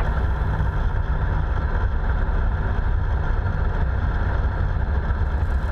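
Boeing Stearman biplane engine throttled back to idle on final approach, a steady low rumble with wind rush filling the whole stretch, continuous and fairly loud without changes in pitch.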